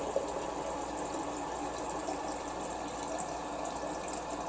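Air sputters and hisses through a Frigidaire refrigerator water dispenser just after a new ULTRAWF filter cartridge is installed. It is a steady, noisy rush of air and water that goes on without a break.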